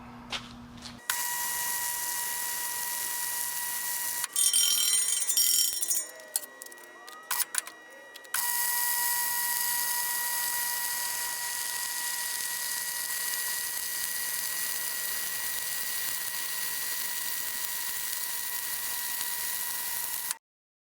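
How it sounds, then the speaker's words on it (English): Dual shield flux-core welding with 0.045-inch wire at a hot setting runs along the I-beam frame of a 1977 Peterbilt 359 truck, a steady, close, loud hiss and sizzle held for most of twenty seconds with a brief break early on. "Probably just going to weld it out."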